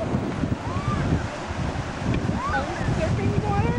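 Surf-sized ocean waves wash steadily with wind buffeting the microphone, while people talk over the sea noise throughout.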